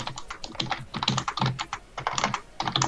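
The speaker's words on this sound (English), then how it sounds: "And you can hear Matt violently typing in the background." Rapid, vigorous typing on a computer keyboard, close and fairly loud, with dense irregular clusters of keystrokes and brief pauses, heard alone without talk.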